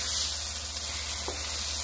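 Vegetables and egg for ribeye steak beef fried rice stir-fry in a wok or skillet with a constant loud, hissing sizzle and one soft stirring scrape partway through.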